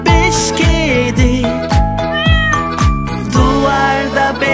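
Repeated sung meows, like cats, form a bouncy rhythmic children's song, loud and close with musical accompaniment and no ordinary talk.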